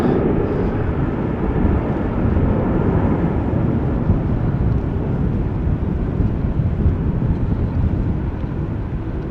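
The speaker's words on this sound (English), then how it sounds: "Now, where was that airplane?" A loud, steady broadband roar of an airplane at Amsterdam Schiphol Airport, holding constant and close without a break across the whole stretch, with no voices.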